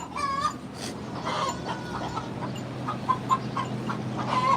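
Chickens cluck on a farm alongside turkeys, goats and sheep, a steady run of short clucks and calls at moderate distance over a constant outdoor background.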